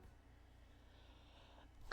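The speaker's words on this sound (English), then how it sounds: "Excuse me, I had to sneeze." A single sharp sneeze bursts out right at the end after near silence, loud and close.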